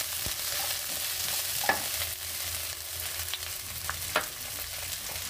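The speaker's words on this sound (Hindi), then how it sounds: "अदरक का पेस्ट डालेंगे।" Ginger-garlic paste frying with capsicum in a pan for chilli paneer gives a continuous hissing sizzle, broken by a few soft clinks and stirring taps, with no talk.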